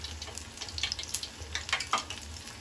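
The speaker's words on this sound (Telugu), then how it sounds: "ఒక సైడ్ ఫ్రై అయిపోయిన తర్వాత రెండో వైపు కూడా ఇలా తిప్పుకుంటే మనకి మంచిగా కాలుతాయి రెండు వైపులా" Raw banana bajji fry in hot oil, a quiet steady bubbling sizzle with scattered crackles and pops, close by and with no talking.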